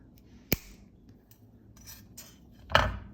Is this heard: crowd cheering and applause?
no